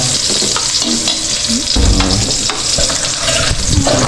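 Food sautéing in a pan gives a loud, continuous sizzle and crackle, with stirring scrapes and a brief surge of frying noise midway.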